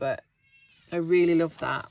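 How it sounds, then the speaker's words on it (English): Stuart, a house cat, gives a drawn-out meow close by, bracketed by someone talking. A shorter meow-like cry comes just before the talk resumes. "If you can hear that, that's my cat."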